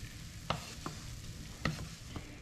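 Onions fry in a pan with a steady low sizzle, broken by a few light scrapes or taps of a spatula, quiet and close with no voices.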